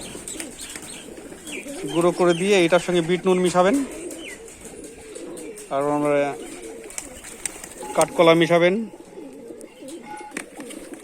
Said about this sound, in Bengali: দেখুন পায়রাগুলো